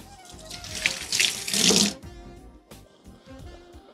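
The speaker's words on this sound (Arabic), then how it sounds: "اغسل ايدي بس." Kitchen tap running while hands are washed, a close rushing splash that swells for a couple of seconds and then thins to a softer trickle.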